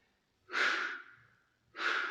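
A person exhales forcefully while rising into an ab crunch during a home workout, two long breathy blows close to the microphone with a short pause between them.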